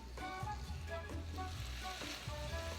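Cooked corn heats through in a pan with a steady, close sizzle, and a few regular stirring scrapes run through it.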